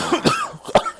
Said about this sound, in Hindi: मेरे को थोड़ी सी खांसी हो गई है